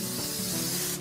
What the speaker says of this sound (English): Or any non-stick cooking spray.